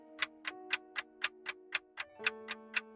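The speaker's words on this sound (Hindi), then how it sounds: "दीवार पर लटकती पुरानी घड़ी तेज आवाज करने लगी" An old wall clock ticking loudly and evenly, about four sharp ticks per second repeating alone in a quiet room, with a faint ringing tone beneath.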